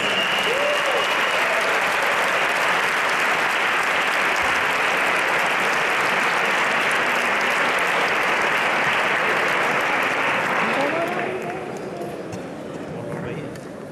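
Sustained audience applause fills a flamenco concert hall at the Silla de Oro 2018 final in Leganés, a dense loud roar of clapping that fades toward the end as a voice speaks over it.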